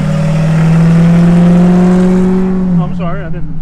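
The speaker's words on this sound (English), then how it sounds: "you need to slow that truck down there" A truck drives by fast near Venice on the Gulf, its engine revving loud and steady before the pitch drops as it passes, with voices talking over it.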